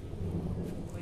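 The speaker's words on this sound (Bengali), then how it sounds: "ওই যে দেখো মেঘের আওয়াজ শুনতে পাচ্ছ নাকি তোমরা" Thunder rolls in a dark, cloudy sky before rain, a low continuous rumble that carries through the whole brief moment from a distance, with no talk over it.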